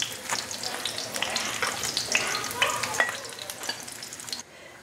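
Shrimp and tuna spring rolls (nems) fry in hot oil, giving a steady, dense sizzle with crackling pops throughout that cuts off abruptly near the end.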